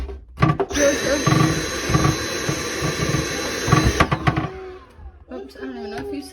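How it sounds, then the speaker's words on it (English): A power drill bores a hole for a wooden farmhouse shelf in one loud continuous whir of about three and a half seconds, with rattling bursts. It stops abruptly and a voice speaks afterward. "got that hole drilled"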